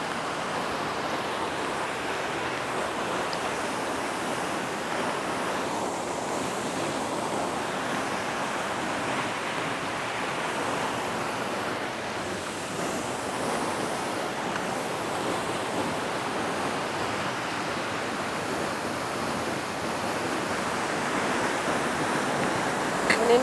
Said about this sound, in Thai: เจ้ากระดิ่งโอ้โหน้ำตกใหญ่มากเลย